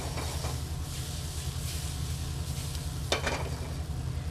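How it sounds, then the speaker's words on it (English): Mushrooms sizzle in a hot sauté pan with a little olive oil, giving a steady, dense frying hiss close by. One brief louder crackle lands near the end, and no one speaks. "It forces the mushrooms to cook quickly and release their liquid."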